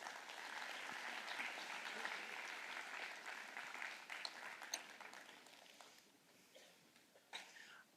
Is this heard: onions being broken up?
no